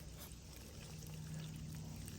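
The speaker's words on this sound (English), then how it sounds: "We got the pool filling with some fresh water." Faint, continuous stream of fresh water pouring and splashing into a puppy pool, steady and quiet, with a low hum in the background.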